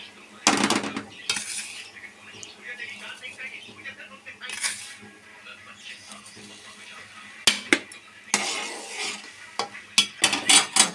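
Roasted semolina is stirred into boiling liquid in a pot. A spoon scrapes and clanks against the metal in loud bursts between quieter stretches of bubbling, with someone talking in between.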